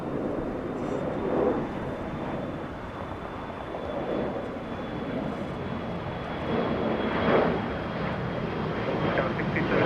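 A jet airliner taking off at LAX, a broad steady engine roar with slow swells in loudness, heard from a distance and sustained throughout.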